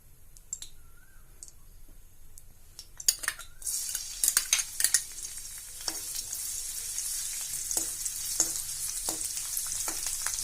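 One tablespoon of finely chopped garlic hits hot oil in a pan with a rising sizzle that settles into steady frying, broken by clicks of a utensil stirring against the pan, close and with no talking.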